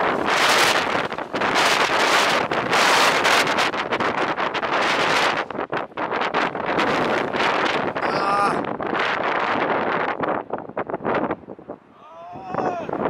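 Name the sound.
strong wind blowing on the microphone while cycling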